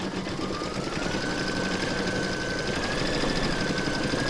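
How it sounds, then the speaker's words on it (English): Sewing machine stitching appliqué on a T Rex dinosaur design, a steady, fairly quiet mechanical hum running without pause and with no talk. "pop it into your machine and stitch round number 2 to secure them back all"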